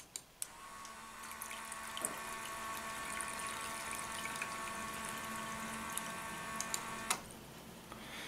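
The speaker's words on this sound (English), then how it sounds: "And then we have the water pump." A small water pump in an IoT project runs steadily with a low, even hum and faint trickling water, with a few light clicks near the start and end.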